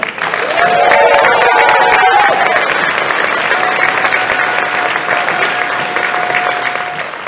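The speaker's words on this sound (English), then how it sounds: "round of applause for the Berkeley High Jazz Combo" Audience applause for the Berkeley High Jazz Combo at the 29th annual Berkeley Mayor's Student Awards: dense, loud clapping from a full room that fills the clip, with a few sustained tones underneath and tapering slightly toward the end.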